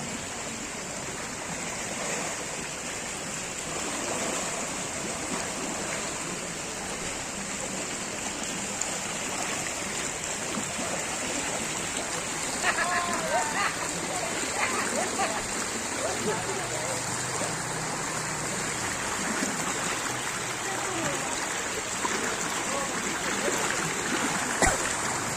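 Floodwater after heavy rain, risen to chest height on an adult, rushes steadily in a dense, continuous roar, with faint voices underneath.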